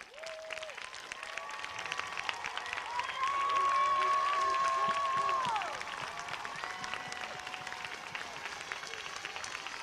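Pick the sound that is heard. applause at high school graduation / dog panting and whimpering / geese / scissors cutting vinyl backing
applause at high school graduation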